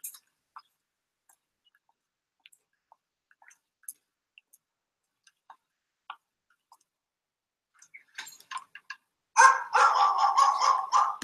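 A dog barks loudly from a video played back during a real estate marketing talk, with a burst of barking near the end after scattered faint clicks and taps.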